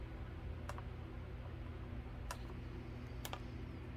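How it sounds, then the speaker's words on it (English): Zip tie fastened onto a mesh wreath, heard as three sharp, quick ratcheting clicks spaced apart over a quiet, steady room hum. "I'm just gonna zip tie this on here."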